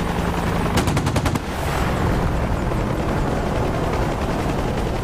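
A helicopter gun fires a short rapid burst in a DCS combat flight simulator dogfight between an AH-64 Apache, Mi-24 Hind, Ka-50 Kamov and UH-1 Huey, the quick rattle standing out over a steady loud rotor and engine drone.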